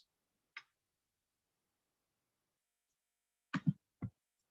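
A computer keyboard gives a few isolated, quiet clicks: one tap early on, then a quick cluster of two or three near the end, with silence between them.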